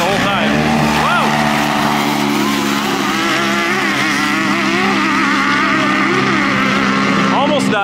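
Off-road side-by-sides racing laps, with a Can-Am Stage 6 Turbo S among them: loud, close engine roar rising and falling as the machines rev and pass, with voices breaking in over the noise.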